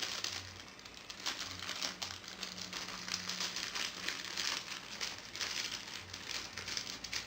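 A product being unpacked from a large bag, with continuous close crinkling and rustling of plastic, soft and fairly quiet, with irregular crackles throughout.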